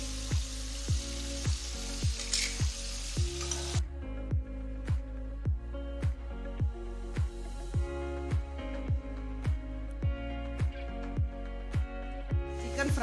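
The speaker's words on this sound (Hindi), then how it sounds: "अब सबसे पहले हम इसको चिकन को फ्राई करते हैं।" Chicken frying in a mix of ghee and oil for khara masala, with steady sizzling, and a regular stir or scrape repeating about every half second throughout.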